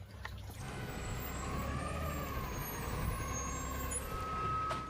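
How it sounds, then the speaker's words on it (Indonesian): A garbage truck, apparently a toy model, runs with a steady low engine rumble, while tonal whining and beeping sounds sit on top. The sound is continuous, moderately loud and heard alone. "Wow, ini adalah truk angkut sampah."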